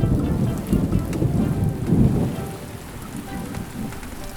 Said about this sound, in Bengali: আর ওইদিক বৃষ্টি নাইমা গেল